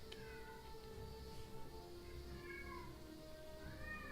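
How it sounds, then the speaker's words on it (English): A cat meows loudly and insistently indoors, drawn-out repeated cries over a steady background hum. "Cat is now screaming."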